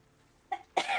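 A person sneezes at close range indoors during a tabletop Curse of Strahd session: a quick breathy build-up, then one sharp, loud burst that trails off.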